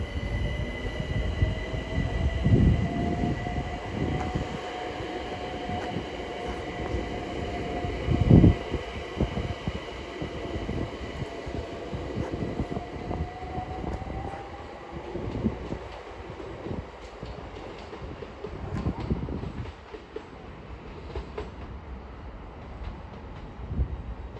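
A London Overground Class 378 electric train pulls out of New Cross station, rumbling along the platform with a rising motor whine, thumps from the wheels and squealing rails as it leaves.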